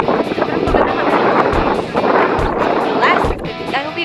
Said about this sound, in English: I hope you guys can hear me because the wind is kind of too strong.